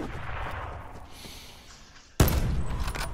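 Gunfire in Call of Duty Blackout, with a muffled rumble of distant shots followed by a sudden loud close blast and a burst of rapid fire.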